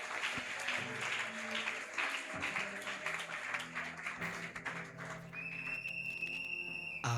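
A church congregation applauds and cheers steadily throughout, a dense wash of clapping with a few whistles, and a sustained organ or keyboard tone joining near the end.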